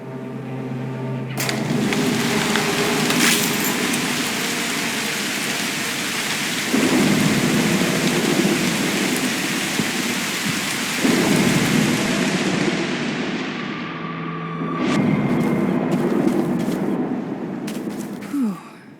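Heavy rain pours steadily in the Broken Pieces video game, with rolls of thunder swelling in several waves over the continuous downpour, loud and close throughout before easing near the end.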